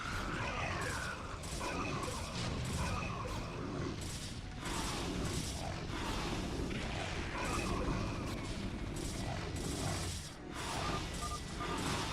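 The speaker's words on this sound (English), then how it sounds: "you just don't want to be there when Mutas are firing away like that" Mutalisk swarms attacking in StarCraft: Brood War, a dense, continuous clatter of rapid impacts and booms filling the whole stretch at steady loudness, with no voices.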